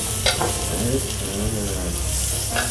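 Durian frying in an oiled pan, a continuous sizzling hiss with occasional stirring scrapes, close by and fairly loud.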